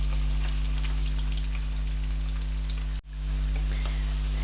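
Onions fry toward golden in a pan, hissing loudly in a dense, steady sizzle up close. A momentary dip interrupts the sound before it resumes just as strong.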